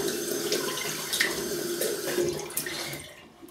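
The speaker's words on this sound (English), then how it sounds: "Let me just take this lather off." Tap water runs and splashes steadily as Southern Witchcrafts Pomona shaving soap lather is rinsed off after a Rockwell 6S razor shave, close and continuous, tapering off near the end.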